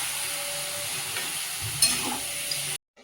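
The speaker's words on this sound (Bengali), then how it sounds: "এই মাংসটা একটু এবার ঢাকনা খুলে একটু নেড়ে দেবো।" Meat sizzles in a pan as it is stirred while braising, a steady close frying hiss with a scraping stir partway through, cutting off abruptly into silence near the end.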